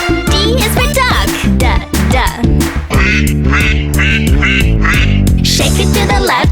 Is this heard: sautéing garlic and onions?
no